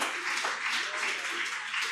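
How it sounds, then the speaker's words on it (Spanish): A church congregation applauds loudly and steadily, a dense wash of clapping that stays even throughout the short burst. "dale un fuerte aplauso al Señor, bien fuerte"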